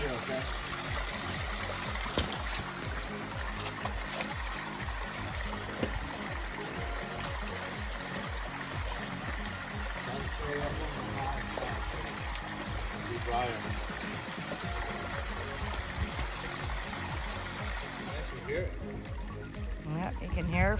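A waterfall's flowing water makes a continuous rushing, trickling wash heard outdoors, with people talking intermittently over it.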